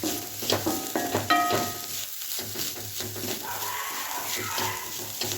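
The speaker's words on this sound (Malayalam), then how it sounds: "ഇനി അത് നമ്മൾ നല്ലപോലെ ഇളക്കി കൊടുക്കാം" Spinach masala sizzling and being stirred in a pan, a steady close frying hiss with intermittent scraping stir sounds and some faint background noise.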